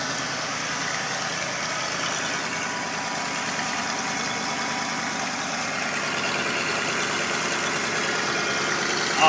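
A freshly tuned 302 V8 idles steadily and smoothly, a loud, even rumble with a constant low pulse and no talk over it.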